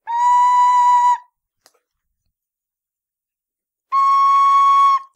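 A Killarney C tin whistle sounds two clear, sustained notes, each lasting about a second, close and loud, separated by several seconds of silence with a tiny click between them.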